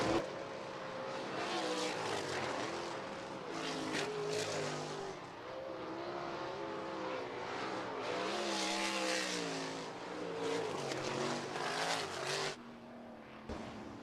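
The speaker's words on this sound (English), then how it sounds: "Coming off of turn number 4, your heat race winner, the 8H of Jacob Hughes" Sportsman and 305 sprint cars racing in a heat at Rapid Speedway, engines roaring loud and steady with rising and falling whines as the cars pass close by, the pitch sweeping up and down through the whole run.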